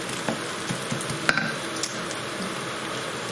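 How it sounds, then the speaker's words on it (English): Thinly chopped garlic, three cloves, sizzles in a hot pan for British Indian restaurant style garlic chilli chicken, a steady close crackle of frying with a few sharper pops, no talking. "Keep it sizzling like this a little bit."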